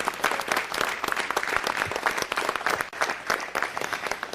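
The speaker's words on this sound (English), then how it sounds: "Let's give them a round of applause." A city council meeting audience in Las Vegas breaks into sustained, dense applause, loud and steady clapping from many hands filling the room throughout.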